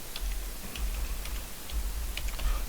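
Typing on an English-layout computer keyboard, with light, irregular key clicks over a steady low hum, fairly close and moderately quiet.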